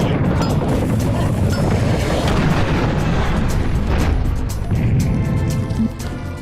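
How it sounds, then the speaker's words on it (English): The Serious Bomb exploding in the PC shooter Serious Sam, a loud, sustained roaring blast that fills the whole stretch with dense rumbling noise and scattered crackles before easing slightly at the end. "The Sirius bomb is probably the rarest weapon in the game, but when used, it can kill every enemy in the area instantly upon exploding."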